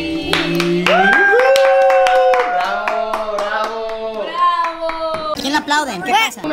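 Family members clap along at a child's first birthday party, steady hand claps mixed with singing voices and chatter close by, the clapping continuing under the voices throughout.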